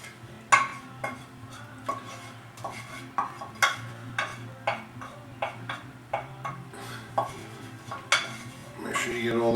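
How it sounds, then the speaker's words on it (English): Beans tipped into a pot for a home-cooked rice and beans dish, stirred with a utensil that scrapes and clinks against the metal in steady repeated strokes, close and fairly loud over a low background hum. "Put your beans in."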